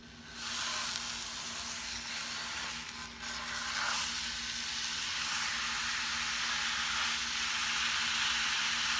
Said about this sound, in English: I'm going to put my ground beef in the skillet and grind it up.